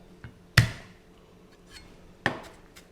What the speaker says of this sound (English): just give that a quick cut up like that